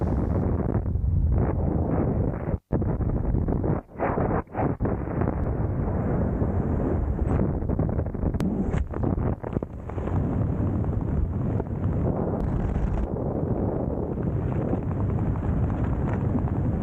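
Strong wind roaring continuously during a skydiving freefall after jumping from a plane, a loud, steady rush that fills the whole stretch with brief buffeting dips.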